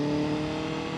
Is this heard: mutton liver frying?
no